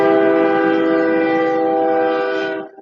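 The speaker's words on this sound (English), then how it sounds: "Train" A passing train's horn blasts in one long, loud, sustained chord close by, holding steady before cutting off abruptly at the end.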